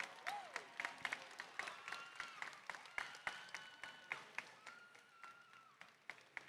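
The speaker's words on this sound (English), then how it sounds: "please give them a big, big, big applause to all of the teams that we have present here" An arena audience at the FIRST Tech Challenge championship applauds the teams with faint, scattered clapping and sharp individual claps. Whistles and tonal squeals from the event rise over it.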